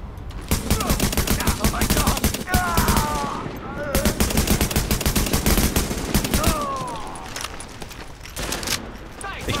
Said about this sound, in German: Echt schwer mit der Waffe hier zu schießen